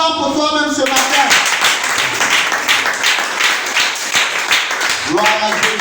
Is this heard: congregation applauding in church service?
yes